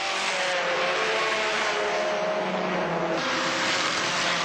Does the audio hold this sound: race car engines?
yes